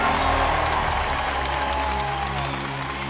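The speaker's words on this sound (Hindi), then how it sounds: "ये बदलाव की तालियां हैं" A crowd applauds in a dubbed film scene, loud, steady massed clapping with some cheering and a low music bed throughout.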